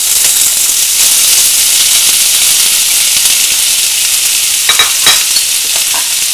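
White beans and sausage frying in a pan, a loud, steady sizzle throughout with a few brief scraping stirs near the end.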